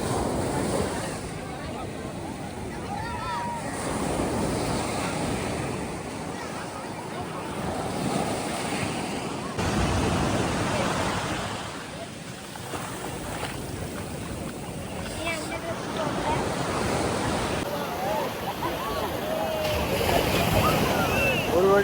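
Sea waves washing over bare feet on a Pondicherry beach, a steady rushing surf with gusts of wind against the microphone, while people talk close by throughout.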